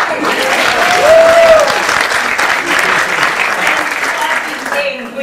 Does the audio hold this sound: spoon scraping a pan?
no